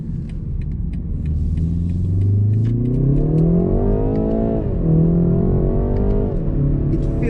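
A BMW 330i M Sport G20 with a ZF automatic gearbox accelerates hard toward 6,000 rpm, its engine note rising steadily in pitch, dipping briefly at a shift, then climbing again, loud and close with no talking.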